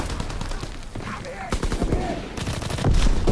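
Gunfire in Call of Duty WWII gameplay: sharp, rapid shots in quick clusters with a louder burst toward the end, over a voice talking.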